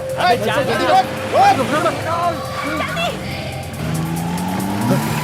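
A car in a Hindi-dubbed action movie chase speeds away with loud, repeated tire squeals and a revving engine, close and intense, while voices shout over it.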